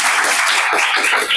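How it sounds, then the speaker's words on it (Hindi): A short, dense burst of group applause at a school, loud and continuous for just over a second. "तालियां बजाओ एक बार"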